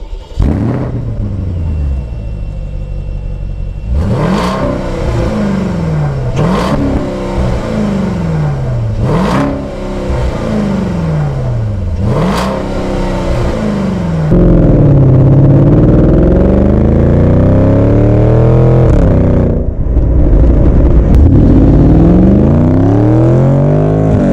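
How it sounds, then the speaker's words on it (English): A 2013 Porsche Cayenne GTS valved exhaust recorded from the rear: several sharp rev blips rise and fall, then a longer, louder sustained rev swells and drops, with no talk. "let's go to the back and get a nice valved exhaust clip"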